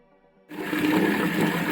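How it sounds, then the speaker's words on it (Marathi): Water gushes into a bucket with a loud, steady rushing roar that starts abruptly after a short, quiet hum and then keeps going without a break. "बादलीमध्ये पाणी भरत लावले"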